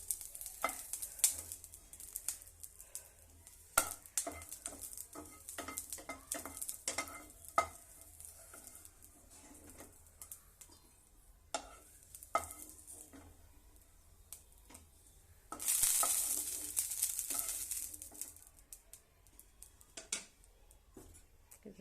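Dried chillies frying in hot oil in a pan on a stove, a soft continuous sizzle with frequent stirring scrapes and ticks, swelling into a louder hiss partway through; no talking.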